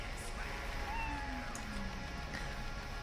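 A cat in the video game Cyberpunk 2077 gives a few soft, drawn-out meows over a steady background hum, faint and somewhat distant.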